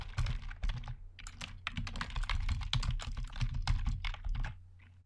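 Steady bursts of key clicks sound from typing on a computer keyboard while Python code is written, nearby and fairly quiet, with brief pauses between runs of keystrokes.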